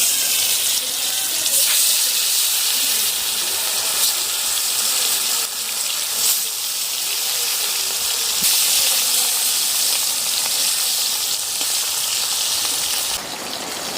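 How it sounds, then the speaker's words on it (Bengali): Bhetki fish frying in hot oil in a wok, a loud, steady sizzling hiss that keeps up without a break for the whole stretch, with small crackles over it. "এবার আমি ওই তেলের মধ্যে মাছগুলো একে একে দিয়ে ভেজে নেব"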